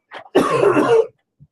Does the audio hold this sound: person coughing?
yes